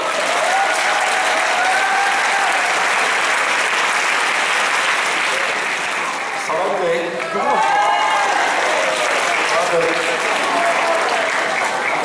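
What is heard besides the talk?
audience applause for the teachers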